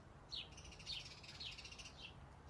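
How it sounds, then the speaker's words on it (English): Birds chirp outdoors near a greenhouse, giving short repeated high calls about every half second over a faint, steady background hiss. "the birds are chirping"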